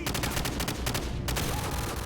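Rapid gunfire in a Modern Warfare game, a dense continuous volley of shots, loud and close throughout, with no talk.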